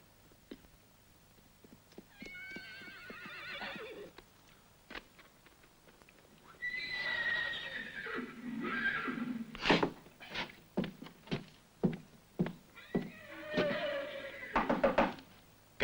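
A horse whinnies in several high, wavering bursts, with sharp knocks and stamping hooves scattered between them, fairly close and loud.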